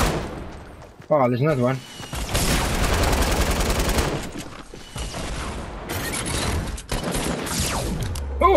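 Dense video game gunfire rattles in long loud bursts with brief gaps, close and heavy, along with mechanical clanks and a warbling tone, while a player talks excitedly over it.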